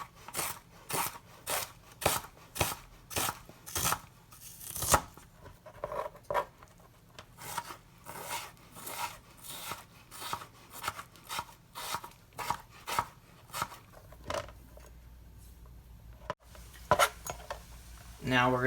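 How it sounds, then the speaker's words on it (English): A knife chops peeled ginger on a cutting board in quick, steady strokes, a loud close run of crisp rhythmic taps that pauses near the end. "Alright, and now we can chop it up."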